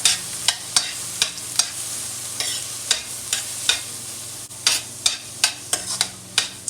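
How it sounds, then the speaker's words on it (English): Corn kernels stir-fried in hot oil, with regular spatula clacks and scrapes against the wok every half second or so over a low, continuous sizzle. "Slowly stir fry until the corn is fully cooked."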